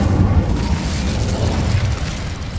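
An Incendio fire spell bursts in Hogwarts Legacy as a dense, roaring blast that fills a short moment at steady loudness.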